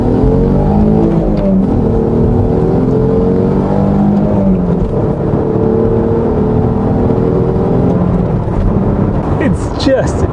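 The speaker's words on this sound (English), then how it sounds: "Just one of the most beautiful sounding engines ever" An Alfa Romeo 156 2.5 V6 engine revs loudly and continuously, its deep roar rising and falling with a rich, harmonic growl that dominates the whole stretch.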